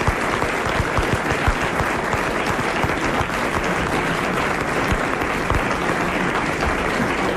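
A French radio studio audience in 1993 gives sustained, lively applause for a guest, thick steady clapping with occasional sharper claps and no talking throughout.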